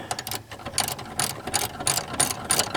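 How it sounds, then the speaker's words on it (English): A 13mm ratcheting box wrench works a door hinge bolt loose on a Ford truck, giving quick, close clicking bursts of the pawl in an uneven rhythm with no talking. "break the bolt loose with my 13mm ratcheting"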